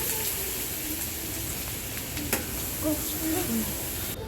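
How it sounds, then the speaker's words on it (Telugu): Ginger paste and curry leaves frying in a pan of oil for fish fry, a dense continuous sizzle close up with light stirring scrapes and a few crackling pops, no talking. "ఈ అల్లం పేస్ట్ ఇలా కలర్ కొంచెం మారిన తర్వాత కరివేపాకు కూడా వేసుకొని కొద్దిసేపు ఫ్రై చేసుకున్నానండి"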